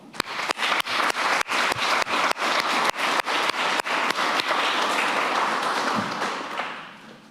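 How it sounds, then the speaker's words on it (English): A student senate meeting audience breaks into a round of applause, steady dense clapping close and loud that holds for several seconds with rhythmic thumps, then slowly fades. "Please join me in giving a round of applause for them."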